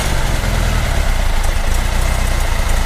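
A 1973 Volkswagen Square Back engine idling steadily, a loud continuous low rumble close to the car with no change in pace and no voices.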